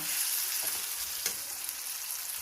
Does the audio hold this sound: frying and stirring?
yes